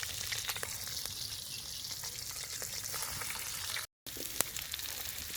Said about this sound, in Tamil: இப்போ கொழுப்பில் வதக்க போகிறோம்.